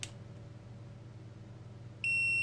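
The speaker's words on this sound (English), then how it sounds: "In automatic mode, the multimeter is so slow that even beeping" A cheap multimeter in continuity mode sounds a sharp, steady high-pitched beep that starts abruptly after a quiet stretch of faint hum, with a tiny click at the very start.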